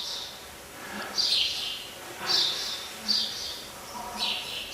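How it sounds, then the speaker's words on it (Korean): Birds and bats call in a rocky cave area, giving short, high chirping bursts repeated about once a second over a faint, hissy background, with no talk over them. "박쥐들 소리 나오고 새들 소리 나오고"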